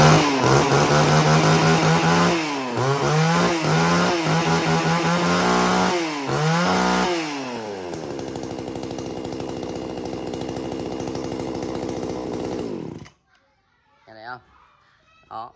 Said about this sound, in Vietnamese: Máy Maruyama, máy nổ rất là nhạy luôn anh em nhá